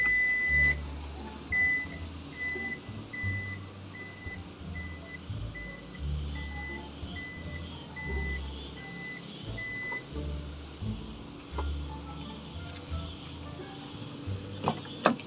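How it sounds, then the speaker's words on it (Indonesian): A 2013 Toyota Vellfire facelift's power back door sounds a steady series of short, evenly spaced beeps as it closes, fairly faint over a low motor hum and background rumble, with a few clunks near the end. "Ada tombol power back door di situ."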